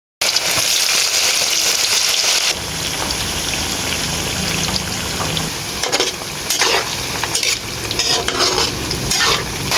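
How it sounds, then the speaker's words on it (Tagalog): Cassava chips frying in hot oil in a pan give a steady, dense sizzle and crackle that starts loud, settles slightly, then carries on with bursts of spitting and bubbling, close up with no talking. "paprito lang naman natin itong kamuting kahoy"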